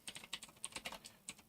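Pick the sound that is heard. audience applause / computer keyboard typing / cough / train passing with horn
computer keyboard typing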